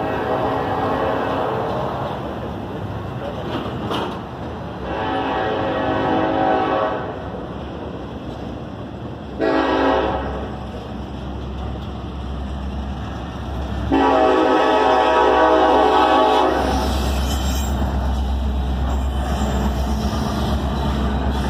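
Freight trains rumbling past in Elkhart, Indiana, loud and close, the horn blowing in several long blasts between stretches of steady rolling noise and a deep engine drone.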